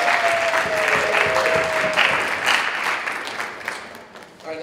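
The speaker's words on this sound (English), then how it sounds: "Let's give them a big round of applause" Audience at a trivia bee applauds the event's sponsors, a lively round of clapping with a brief whistle early on, tapering off toward the end.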